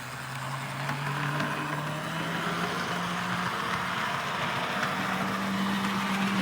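Small model train locomotive motor running steadily on the bench, with a faint ticking from a split gear on one axle, a continuous close mechanical whir with a steady hum throughout.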